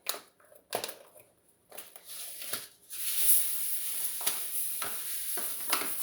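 White sesame seeds, a 200-gram bag for tahini, pour into a bowl as a steady granular hiss and rattle, preceded by a few crinkly handling sounds and short taps.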